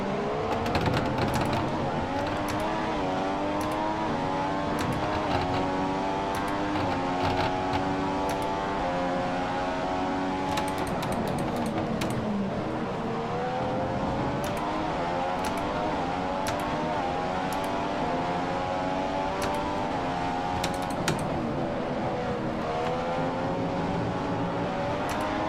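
Formula One race car engine in the F1 2015 video game at the Austrian circuit, screaming loud and close with continuous high revs, rising and falling through gear shifts while chasing and overtaking Alonso's car.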